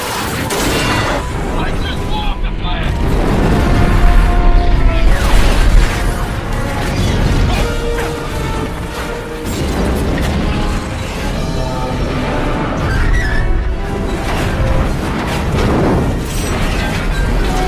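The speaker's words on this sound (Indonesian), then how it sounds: "Pike mengambil meriamnya dan menembakkan meriam tersebut ke perahu" A film scene of a cannon firing at a boat gives loud booming blasts and explosions under a dramatic music score, with heavy low rumbles and sharp bursts that recur throughout.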